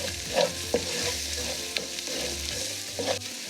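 A Kerala-style mutton biryani masala of coriander powder, garam masala and pepper powder fries in a pan, a continuous close sizzle broken by a few scraping stirs.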